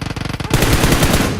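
A rapid burst of automatic gunfire in PUBG Mobile, with quick evenly spaced shots that give way to a dense, loud, sustained rattle of fire close by.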